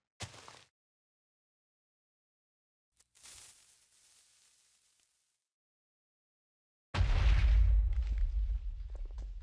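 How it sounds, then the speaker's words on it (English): TNT blows up in Minecraft: a short pop, a brief crackling burst, then after silence a loud booming blast with a decaying rumble. "see, not much explosion"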